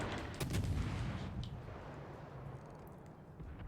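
Naval guns firing at a low-tier cruiser in the World of Warships Legends game, a heavy booming salvo up front that fades into a low rumbling roar.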